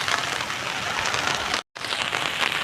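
Heavy monsoon rain pours down over green farm fields, a dense, steady hiss of drops striking the ground, broken by one momentary dropout.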